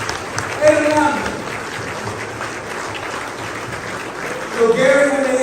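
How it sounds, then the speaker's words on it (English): Crowd applause at a fraternity chapter's 50th anniversary celebration, steady clapping throughout with voices calling out over it near the start and again at the end. "If all who made this night possible, y'all give them a big round of applause."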